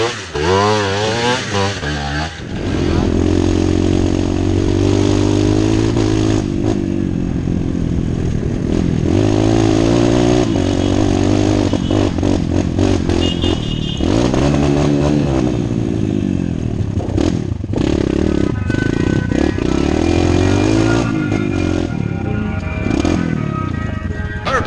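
An enduro motorcycle engine revs hard and continuously under throttle, loud and close, with rising and falling pitch and mechanical clatter throughout.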